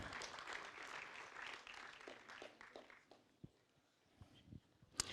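Scattered applause from a seated audience at a Marseille tech-hub event, fairly faint and thinning out, ending in a few isolated claps.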